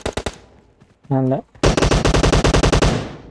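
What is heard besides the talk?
gunfire from a video game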